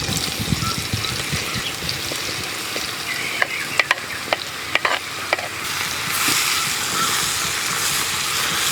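Small pieces of ridge gourd sizzle and sputter in hot oil, a steady crackling hiss with a run of sharp clicks and scrapes from stirring in the middle, then the frying swells louder toward the end.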